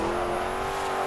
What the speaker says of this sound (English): Perform one great drift.